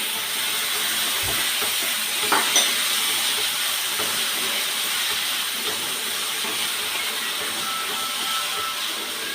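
Tomatoes fry in a pan with a steady, broadband sizzle and hiss that holds evenly throughout, broken by a few faint clinks near the start.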